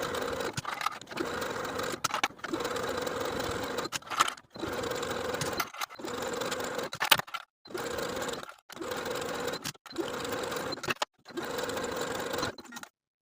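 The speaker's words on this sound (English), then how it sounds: "edge stitch along the binding just above the original seam line" Sewing machine edge stitching armhole binding on a cami top, fast rhythmic whirring in repeated short bursts with abrupt stops between them, close and clear with no talking.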